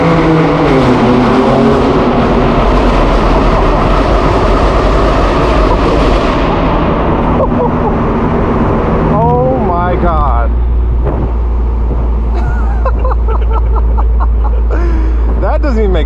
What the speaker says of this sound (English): this is a full M Performance titanium exhaust here with the VRSF downpipes like our M6